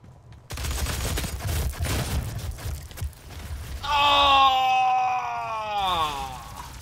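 Gunfire bursts and blasts in a DOOM team deathmatch, a run of sharp shots followed by a loud, wavering demonic groan or roar that slides downward and fades.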